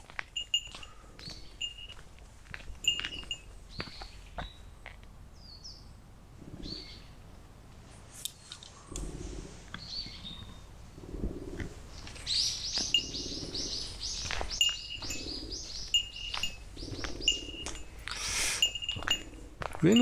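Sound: birds chirping overhead

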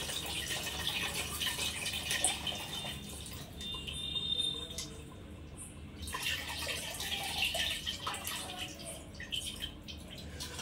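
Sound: running water

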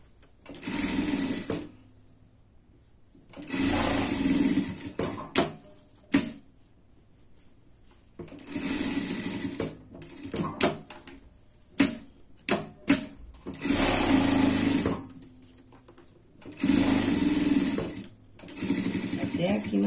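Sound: sewing machine stitching a pet harness

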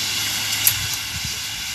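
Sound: water being sprayed onto a forest fire

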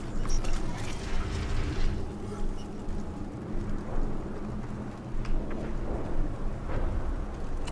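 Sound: thunder in the video game Mass Effect 2

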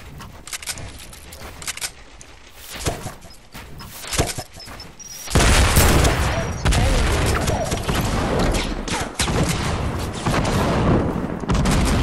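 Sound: gunfire in a video game

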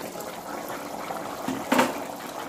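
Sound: water poured into pan for egg curry

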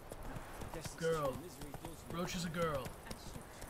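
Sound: horse hooves clip-clop in The Witcher 3 video game

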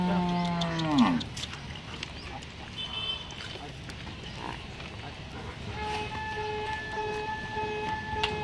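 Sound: Haryana buffaloes lowing while being unloaded

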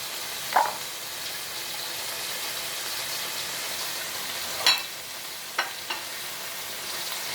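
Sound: squid stir-frying with scallions in oil

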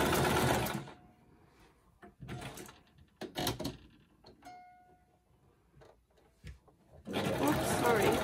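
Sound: sewing machine zigzag stitching fabric scraps

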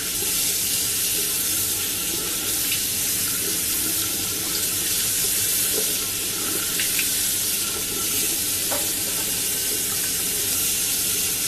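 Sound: running water rinsing off a face mask

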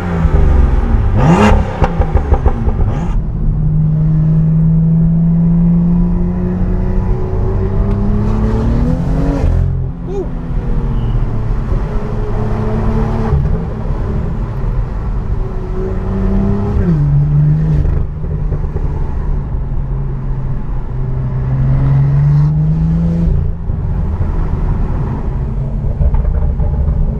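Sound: supercar engine at full load

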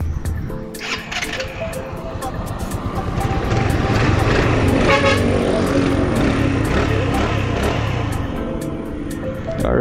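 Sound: Yamaha NMAX scooter engine with stock pipe running

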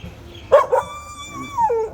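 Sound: dog barking

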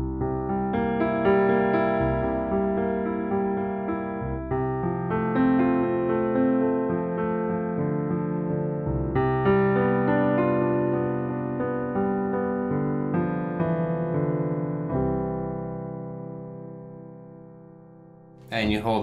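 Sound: piano playing last four measures of Bach's Prelude in C

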